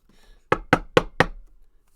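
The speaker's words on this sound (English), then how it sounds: "knocking on the door" Four sharp knocks on a wooden door in an even, quick rhythm, close and clear against near silence.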